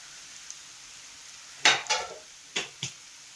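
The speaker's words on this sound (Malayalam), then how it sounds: "ഗരം മസാലപ്പൊടി ഒരു സ്പൂൺ മഞ്ഞൾ പൊടി അതിന് വേണ്ടുന്ന ഉപ്പ് ഇത്ര സാധനം ഇതിനകത്തിട്ട് നമുക്ക് നല്ലതുപോലെ ഇളക്കണം" Beef puff filling seasoned with garam masala, turmeric and salt gets stirred in a pan, with four quiet scraping strokes arriving in two pairs after a stretch of near silence and a faint background sizzle, close and soft.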